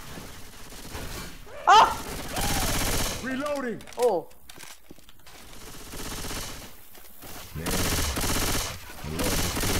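Burst gunfire in the zombie shooter Left 4 Dead 2 crackles in short rapid volleys mixed with game sounds, while voices shout and exclaim over the shots.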